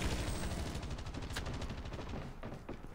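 An automated sentry gun in Call of Duty Mobile firing continuously, a dense rattling stream of rapid shots that blends with other battle noise at a low, steady level.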